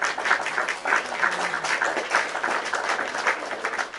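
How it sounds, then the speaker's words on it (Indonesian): Audience applause at an Islamic lecture, a steady wash of many hands clapping at moderate distance, continuous for the full stretch with no talking over it. "Tepuk tangan dulu."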